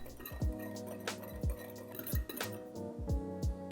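A sauce of light and dark soy sauce with sugar is stirred in a bowl, giving a rhythmic series of clinking taps of a utensil against the bowl, with brief liquid sounds between strikes.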